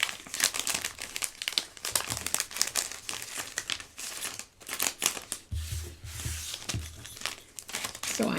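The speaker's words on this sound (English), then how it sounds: "I am just going to take all of this ephemera and put it in the bag." Small paper ephemera pieces are pushed into a plastic bag, giving continuous close crinkling and rustling with sharp crackles and occasional soft low thumps.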